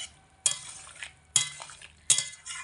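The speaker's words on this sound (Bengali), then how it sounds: "এবার আমি ভালো করে নাড়াচাড়া করে মিশিয়ে নেব সমস্ত তরকারিটার মধ্যে" Drumstick, potato and pumpkin curry gets stirred in a pan, with three distinct scraping strokes of a spoon against the metal in a slow rhythm over a faint sizzle, with no speech.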